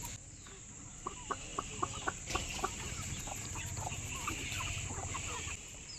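Several chickens clucking nearby in a quick series of short calls, over a steady background hum.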